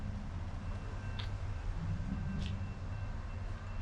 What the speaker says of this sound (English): So here we go, the train's coming through.